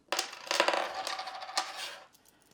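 Metal coins set down for a coin game, a short cluster of clinks and rattles lasting about two seconds, close and fairly quiet.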